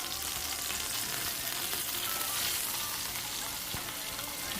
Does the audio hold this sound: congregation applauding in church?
no